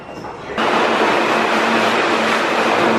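A New York City subway train roars in suddenly after a quiet half-second, then holds a loud, close, continuous rumble with a steady hum running through it.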